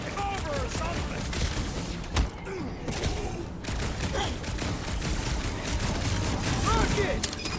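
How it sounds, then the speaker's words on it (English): Gunfire from the PS5 game Guardians of the Galaxy, rapid volleys of shots with thuds rattling steadily throughout, mixed with game effects and characters talking over it. "Should we be shooting this close to these things?"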